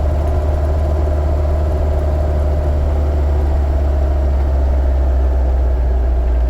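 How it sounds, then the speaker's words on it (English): A very old Land Rover Series 2A engine rumbles steadily and loudly, a low droning drone with a rough, rattly texture and no talking. "You're going to have to excuse the noise. She is a very old Land Rover,"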